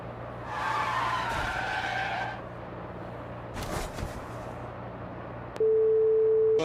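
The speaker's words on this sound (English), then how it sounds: "We have a crash from Alex Albon and Schumacher." Race cars skidding and crashing in the F1 Manager 24 racing game: a long tire squeal swells and fades, a sharp crash burst follows, then a steady electronic tone comes in at the end.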